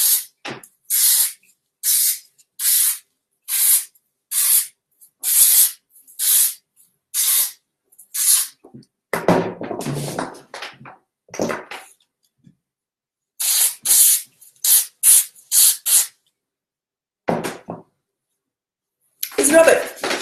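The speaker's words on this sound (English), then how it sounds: "I'm using the dry shampoo in my scalp" Paul Mitchell dry shampoo sprays onto a scalp in a rapid series of short, sharp aerosol hisses, a dozen or so close bursts, then a pause with rustling and talking before more spurts resume.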